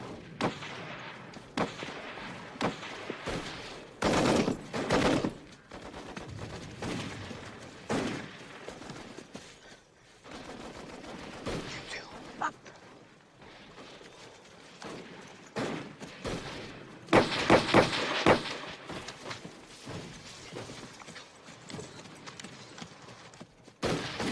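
Bursts of gunfire in a First World War movie battle, loud and irregular volleys with scattered single reports and clattering, near and far, with no talk over them.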